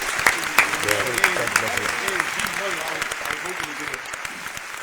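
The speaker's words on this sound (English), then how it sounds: "Round of applause to Buffalo one time." People in a podcast studio give a round of applause for Buffalo, with sharp, close claps running over talking voices throughout.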